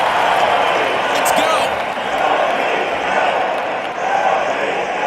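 A large arena crowd at an NHL hockey game between the New Jersey Devils and Toronto Maple Leafs gives a sustained, steady roar of cheering that fills the space evenly without breaks.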